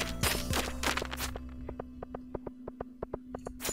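Mobile phone vibrating with an incoming call, heard as a steady series of short, evenly spaced buzzing pulses over a constant low hum, after a brief burst of louder noise at the start.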